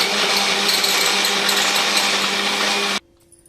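Electric mixer blending a rose essence drink in a glass, a loud, steady whirring grind that runs unbroken before cutting off abruptly near the end.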